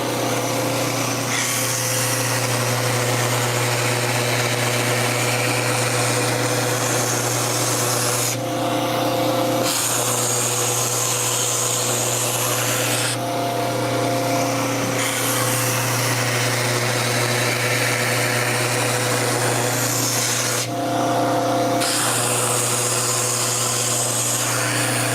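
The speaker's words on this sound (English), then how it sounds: "we are going to bring this edge to a 90 with a belt sander" A belt sander squares the edge of a handcrafted wooden skateboard deck, a steady loud motor whine with abrasive rubbing that briefly lightens three times as the sander lifts off the wood.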